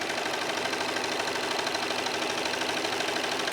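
A serger sewing machine stitches around a fabric corner, giving a loud, continuous rapid mechanical chatter with a steady rhythm and no pauses.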